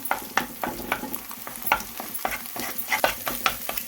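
Eggs with salt and pepper are stirred in a hot pan on low heat, a steady sizzle cut by repeated sharp spatula scrapes in an uneven rhythm, close and fairly loud.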